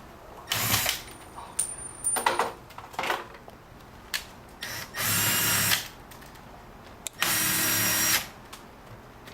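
A cordless screw gun drives screws into an exterior light fixture in short bursts, with a longer whir of about a second near 5 and again near 7.5 seconds and brief clicks and handling noises between them. No voices.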